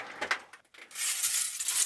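Light glassy clinks and rattles, then a brighter shimmering hiss of tinkling glass fragments, close and fairly loud.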